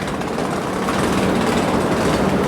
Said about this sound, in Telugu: డే టైంలో స్కిప్ చేసే ట్రైన్ అయితే ఇది ఒక్కటే, ఎర్నాకుళం టాటానగర్ ఎక్స్ప్రెస్.